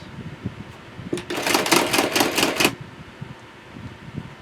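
An adding machine printing a calculation, a rapid burst of mechanical clacking and whirring lasting about one and a half seconds, close and fairly loud, with quieter clicks around it.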